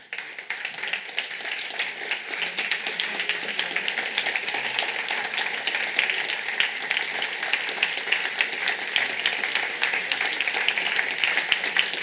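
Audience applause after a conference fills the space with a steady, dense wash of many hands clapping, sustained at an even level throughout without a break.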